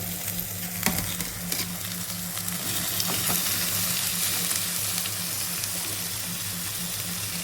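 Paneer tipped into sizzling masala in a pan for a spicy matar paneer curry, giving a steady, close frying hiss with stirring scrapes and a faint low hum beneath throughout.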